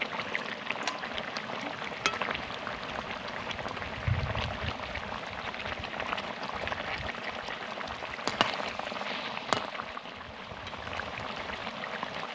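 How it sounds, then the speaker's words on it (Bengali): Fish curry broth (jhol) bubbling at a steady boil in a pan while fried fish is added, a continuous soft fizzing and popping texture with a brief low thump partway through and no talking. "ঝোল কিন্তু ফুটতে আরম্ভ করেছে"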